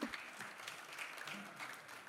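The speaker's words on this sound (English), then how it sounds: "let's clap for Nigeria." Audience at a lecture on elections and democracy in Nigeria claps briefly and faintly, a soft scattered patter in a large room with no talk over it.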